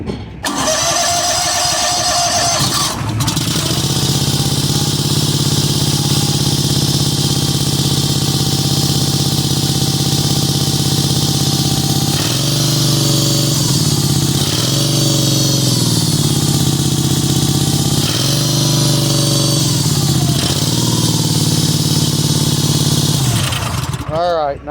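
A Honda GX630 or GX690 engine on a Rol Mol roller cranks and catches, then runs steadily and loudly close by for over twenty seconds, with a few brief throttle dips before shutting off.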